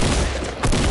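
A grenade launcher blast in a shooter video game, a single dense boom-like burst that fills the short moment loudly with a brief dip before the rumble returns.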